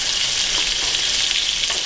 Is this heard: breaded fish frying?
yes